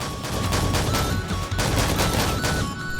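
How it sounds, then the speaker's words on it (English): A powerful shotgun fires in the ZERO Sievert game, loud close blasts repeating in a quick, dense rhythm for several seconds with no talking. "it can be a pretty beastly shotgun"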